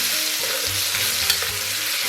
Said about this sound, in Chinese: 咱们给里边来点郫县豆瓣酱，然后来一勺辣椒酱，再给它俩小火煸炒